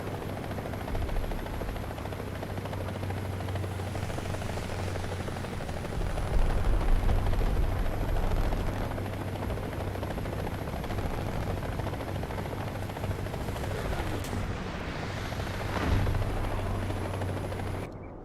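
A helicopter in a tank combat video game flies steadily and loudly throughout, its droning rotor hum joined by bursts of machine-gun fire and other battle noise, with no talking.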